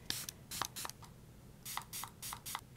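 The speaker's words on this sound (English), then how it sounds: "I need to wet the brush, so I'm going to use the first spray serum." A makeup spray serum is misted onto a flat shader brush in quick bursts, several short close spritzes in two clusters with brief pauses between.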